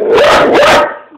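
A single loud, close dog bark, drawn out into a brief two-part yelp that fades quickly.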